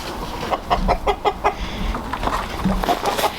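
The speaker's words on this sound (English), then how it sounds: "occasionally we'll find a rooster in there." A rooster clucks nearby in a quick run of short, rhythmic clucks, then keeps up softer, scattered clucking, on a farm in cold weather.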